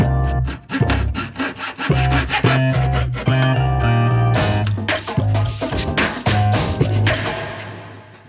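A wooden part for a handmade grand piano is cut by hand with a saw, loud close rhythmic rasping strokes with short pauses, under background music.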